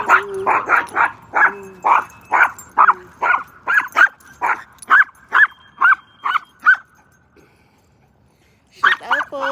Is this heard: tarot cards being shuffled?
no